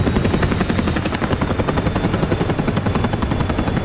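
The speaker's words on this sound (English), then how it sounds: "Someone's in a Chinook." Simulated Chinook twin-rotor helicopter in the DCS flight game, a loud steady rotor thrum with rapid rhythmic blade chop and a high turbine whine, continuous and close throughout.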